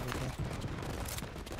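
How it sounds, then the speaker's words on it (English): Dense, rapid bursts of light machine gun fire in The Division 2, a continuous loud rattling volley with overlapping shots and no pauses throughout. "Yeah, he's got damn light machine gun."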